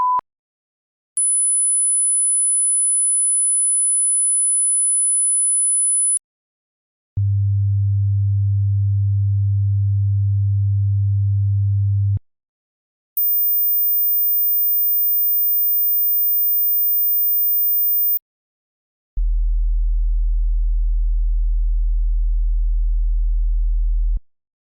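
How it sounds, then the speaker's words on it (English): Pure electronic test tones for ear training, a steady high whistle and a deep low hum alternating in clean blocks of several seconds each, separated by short silences, loud and alone. "You should be able to hear the first 3 tones, 1 kHz, 10 kHz, and 100 Hz, clearly."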